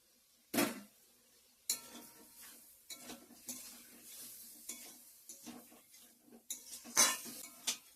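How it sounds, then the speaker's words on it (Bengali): Boiled potatoes being stir-fried with spices in a pan for a potato and paneer curry: repeated sharp scrapes and clanks of a spatula against metal over a soft sizzle, in uneven bursts. "আলুটা ভালো করে কষিয়ে নিচ্ছি মশলার সঙ্গে"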